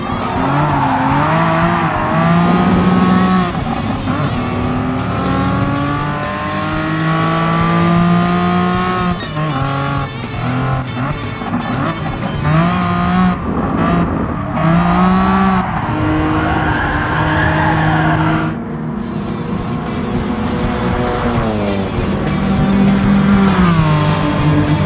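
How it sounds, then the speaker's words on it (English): A TVR Tuscan Speed 6 with a 4-litre straight-six making 360 bhp races in the GT Sport game, its engine revving hard through repeated gear changes with intermittent tire squeal, loud and continuous throughout. "The Tuscan Speed 6 is powered by a 4-liter straight 6"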